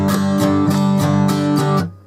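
Acoustic guitar strummed with a pick gripped too loosely, about seven quick, evenly spaced strokes with a slightly flappy attack, loud and close, then cut off.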